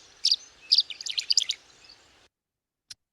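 Tree swallow calls, a close series of bright, liquid chirps and twittering notes lasting about two seconds, then silence and one last short chirp.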